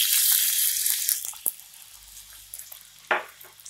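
Water poured into a hot tadka tempering for khaman dhokla, with the gas switched off, gives a loud hiss that fades and is broken by a few sharp spits and pops near the pan.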